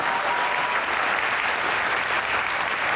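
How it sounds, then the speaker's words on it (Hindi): A studio audience at a Pakistani comedy talk show breaks into loud, sustained applause welcoming two actor-model guests, a dense steady clatter of clapping hands filling the room without a break. "आपकी भरपूर तालियों में आज के मेहमान हैं कुछ खास, मिकाल जुल्फ़िकार और आमना इलियास।"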